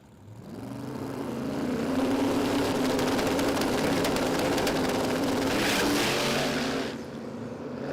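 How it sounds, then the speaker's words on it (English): Two turbocharged drag race cars, an EH Holden and a hatchback, roar through testing runs at a drag strip, a loud sustained engine rumble swelling after a second and holding steady before easing off near the end. "2 turbo cars engaging in some testing."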